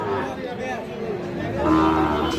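Sahiwal bull calves at the Ambari cattle market bellow in a drawn-out low moo that swells in the second half, amid steady market crowd chatter nearby.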